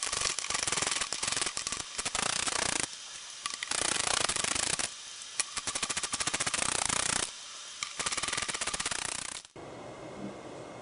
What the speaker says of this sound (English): now it's time to remove the forward fuel pump. That's this one right here, using the 8mm socket.